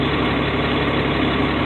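A Ford L9000 truck with a Cat 3176 diesel engine idles warm, a steady, loud, close low rumble and vibration that runs unbroken without talk.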